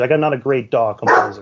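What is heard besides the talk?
dog barking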